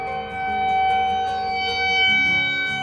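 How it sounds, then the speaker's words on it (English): A civil defense siren wails in a long, steady tone, loud and sustained, rising and falling slightly in pitch during a stay-at-home period. "Is that the apocalypse siren?"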